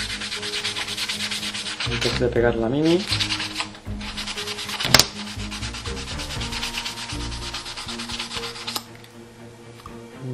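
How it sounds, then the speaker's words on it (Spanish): Sandpaper rubbed briskly over the steel edge of a miniature's base, a steady close scratchy rasp running throughout, with a brief spoken remark partway through. "vamos a darle a este borde del acero un poco con esta lija para que no quede el borde"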